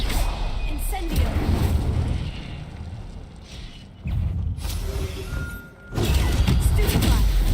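An Incendio fire spell cast in the Hogwarts Legacy video game bursts with loud booming thumps and crackling fiery rumble, with several heavy impacts and a brief lull before another surge of blasts.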